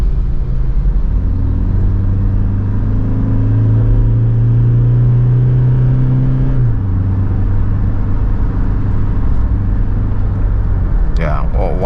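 Toyota Fortuner engine revving up and pulling hard as it accelerates to 120 km/h, a steady loud cabin drone rising in pitch then settling after a gear change, heard from inside with road rumble throughout.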